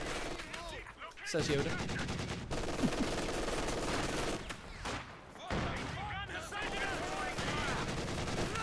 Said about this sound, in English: Meanwhile, the conscripts have been firing on the Panzer Grenadiers.